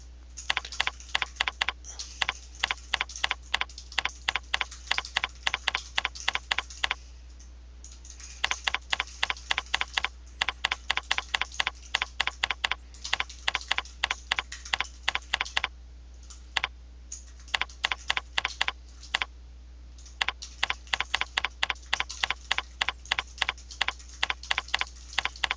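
Someone types a brief issue description on a computer keyboard in quick, even clusters of close, crisp key clicks separated by short pauses, with a steady low hum underneath and no speech.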